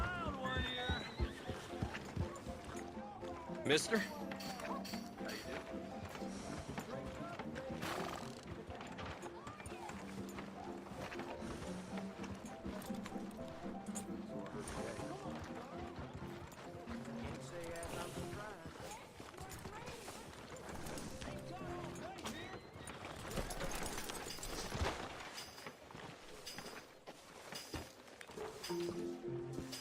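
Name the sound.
wild horse neighing and hooves in video game Red Dead Redemption 2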